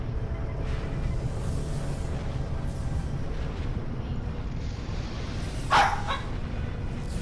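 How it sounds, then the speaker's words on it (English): A pet dog barking somewhere off in the background, faint and indistinct under a steady low hum, with one brief louder burst near the end. "Hear my dog barking."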